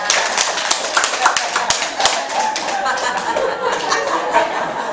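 A group claps hands at a gathering, sharp irregular claps and taps scattered throughout at moderate loudness, mixed with voices and some chuckling in the background.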